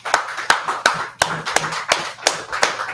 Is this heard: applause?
yes